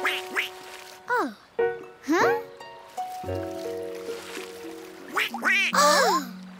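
A duck on a river quacks repeatedly in a children's story, the short nasal quacks coming in scattered bursts. A narrator's voice and music run underneath, and some of the quacks may be voiced imitations.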